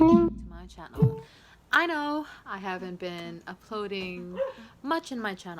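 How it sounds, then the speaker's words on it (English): Dogs barking and yipping outdoors at a distance, short irregular barks scattered beneath someone talking close to the microphone throughout. "I'm sorry for the dogs outside"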